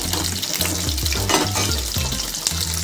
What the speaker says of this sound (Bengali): আলুটাকে আমি ফ্রাই করে নেবো ভালো করে